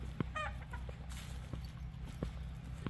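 A rooster gives a few short clucks and squawks close by over a low steady hum, with scattered taps and rustling around it.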